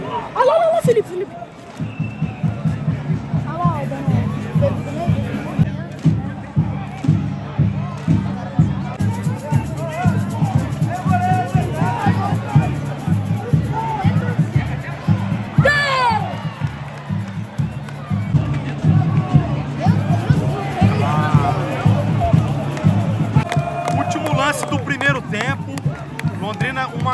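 A dense stadium crowd of Galo Maringá football supporters roars and chants continuously through a Londrina derby match, with rhythmic cheering and shouts building in waves and occasional voices cutting through the din.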